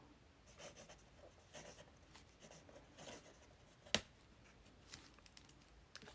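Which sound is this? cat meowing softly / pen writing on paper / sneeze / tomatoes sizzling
pen writing on paper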